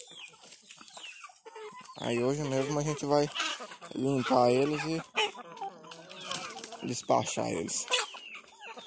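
A rooster clucks and calls in several loud, harmonic bursts close by, with a person talking intermittently around and between the calls.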